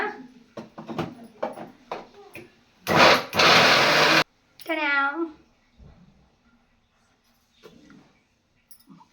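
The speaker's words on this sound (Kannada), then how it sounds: "ನೀಟಾಗಿ ಬ್ಲೆಂಡ್ ಮಾಡ್ಕೊಳ್ಳೋಣ" A blender whirs in one short, loud burst of a second or so, blending soaked almonds, raisins, cashews, cardamom and water, with speech before it and a high meow-like sound just after.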